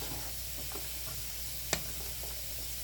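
Greens fry in a pan with a steady, even sizzle while being stirred, with one sharp scrape or clink partway through, close and without talk.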